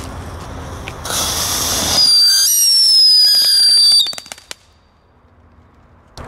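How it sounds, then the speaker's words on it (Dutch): Roman candle fireworks going off with a loud hiss, then a shrill rising and falling whistle over crackling, ending in several sharp pops and a fading tail. "Leuke dingen, man, die Romeinse kaarsen."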